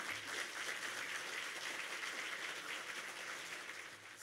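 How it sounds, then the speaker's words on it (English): Steady round of applause from a gala audience at a South Florida Muslim coalition event, an even wash of many hands clapping at a distance, unbroken for a few seconds and easing slightly near the end. "A big round of applause for Karam"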